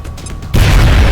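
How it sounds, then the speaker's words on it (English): Grenade explosion in the strategy game XCOM Long War: a quiet stretch breaks into a sudden loud, broad boom that holds as a dense rumbling roar to the end. "Grenade out."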